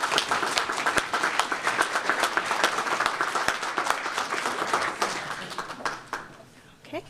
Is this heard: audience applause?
yes